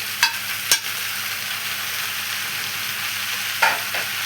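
Tomatoes dropped into a pan of frying vegetables for a potato and chicken tray bake, giving a steady close sizzle broken by a few sharp clinks of stirring.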